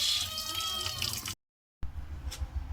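Water from a tap running over small pieces of rohu fish head being washed, a splashing flow that stops briefly, then resumes with drips and trickles.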